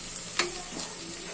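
Garlic, ginger and cashews frying in a pan for egg biryani, with a sharp stir-scrape and a soft steady sizzle close by, no talking.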